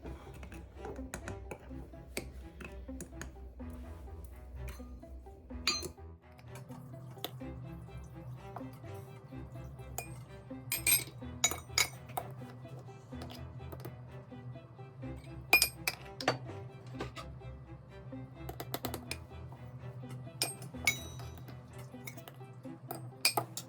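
A whisk clinks and taps against the sides of a metal pot in irregular bursts, whisking 3.5 cups of sugar, with quiet stirring between the sharper knocks.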